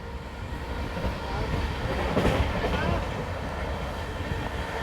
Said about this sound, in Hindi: दोस्तों सामने से आ रही है पूर्वा एक्सप्रेस, नई दिल्ली को हावड़ा जाने वाली पूर्वा एक्सप्रेस